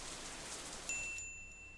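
Steady rain hiss from the video game Katawa Shoujo, a soft, even wash of falling rain with a couple of faint drip-like ticks, quiet and alone.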